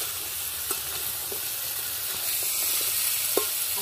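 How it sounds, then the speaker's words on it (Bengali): Potato and mixed vegetables stir-frying in a pan make a continuous close sizzle, with a few soft clicks of a spatula turning them. "সবজিগুলো দিয়ে ভালো করে নেড়ে নেব।"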